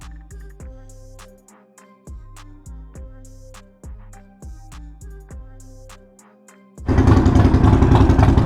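A Harley-Davidson motorcycle engine cranks in several short stuttering bursts, then catches and runs loudly and steadily at close range.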